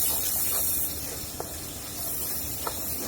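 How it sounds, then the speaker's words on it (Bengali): Onions with green chillies and salt frying in oil in a pan, a steady close sizzling hiss with a few faint clicks, no talking. "পেঁয়াজটা একটু ভেজে নিব"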